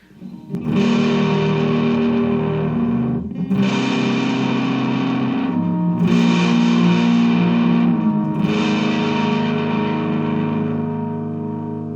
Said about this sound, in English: And on to the final pedal. This is now the fuzz, the final version.